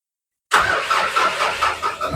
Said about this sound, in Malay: Jadi kereta ini berjaya dihidupkan